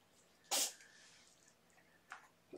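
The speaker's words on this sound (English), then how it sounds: "You can probably hear them sniffling and snuffling." A pet with an upper respiratory infection sneezes once sharply and close, followed by a fainter snuffle or second sneeze near the end amid quiet room tone.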